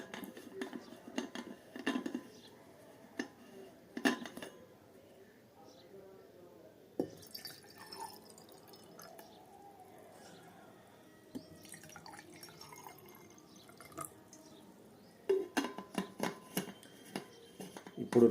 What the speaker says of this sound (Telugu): దీనిలో వాటర్ పోస్తున్నాం